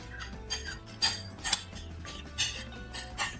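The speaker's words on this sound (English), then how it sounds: "Let me grab a spoon here to scrape the sides." A spoon scraping and clinking against the sides of a bowl of seasoned egg mixture, several short faint metallic scrapes and taps in an irregular rhythm, close and alone without talk.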